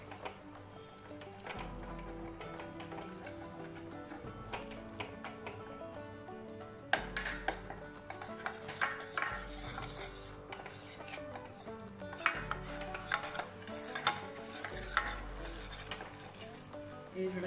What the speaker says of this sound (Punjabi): ਇਹਨੂੰ ਅਸੀਂ ਹੁਣ ਚੰਗੀ ਤਰ੍ਹਾਂ ਬੇਸਣ ਨੂੰ ਜਿਹੜਾ ਆ ਘਿਓ ਦੇ ਵਿੱਚ ਭੁੰਨਾਂਗੇ